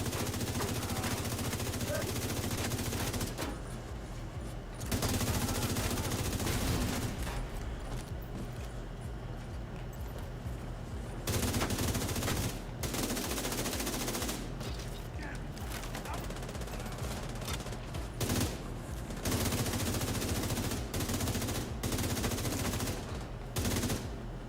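Near-continuous automatic gunfire from a player's weapon in The Division 2, long rattling bursts broken by brief pauses, loud and close, with a voice talking over it at times.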